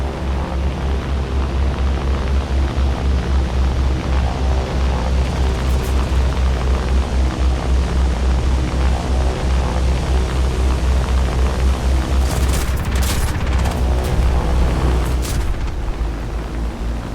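In a video game, aircraft bomb an airstrip with a loud, continuous roaring rumble and low booming drone, topped by bursts of crackling impacts near the end.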